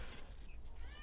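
A male house cat meows once or twice, soft and fairly faint against a low background hum, with no talking.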